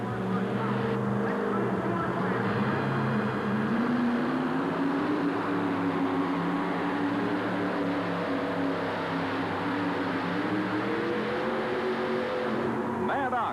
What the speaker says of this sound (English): This is the 1987 Ford. And here again, he's got about 650 cubic inches of Ford horsepower.